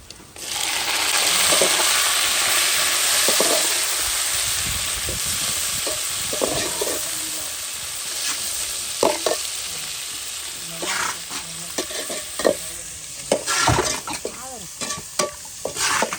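Drumstick pieces sautéing in a pan, a loud steady sizzle at first, then repeated scraping and clattering strokes of stirring that grow sharper and more frequent toward the end.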